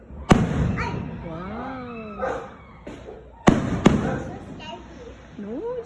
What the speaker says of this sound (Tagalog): It's only fireworks.